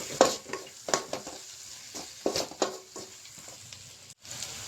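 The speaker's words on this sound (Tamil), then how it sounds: "இப்போ அதெல்லாம் நல்லா மிக்ஸ் பண்ணிக்கலாம்" A spoon scrapes and stirs egg rice in a pan, giving irregular soft scrapes and taps over a faint sizzle, quiet and close with no voices.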